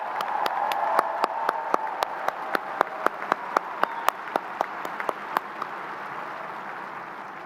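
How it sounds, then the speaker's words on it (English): Crowd applause at a high school graduation ceremony for the class of 2025, a broad sustained wash of clapping with a series of sharp, evenly spaced claps ringing out close by. "Let's give a warm round of applause for the incredible class of 2025."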